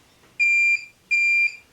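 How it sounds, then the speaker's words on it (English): A 2020 Jayco Eagle RV water heater signals failed ignition with two loud, clear electronic beeps, each lasting about a third of a second, with a short pause between them in an otherwise quiet setting. "So if you hear a beep like that,"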